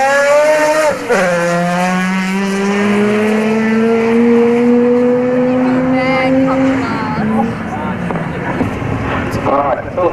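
Turbocharged rotary drag racing car at Oran Park in the early 1990s, a loud honking engine note that drops after a gearchange then climbs steadily for several seconds before cutting off, with an announcer talking over it.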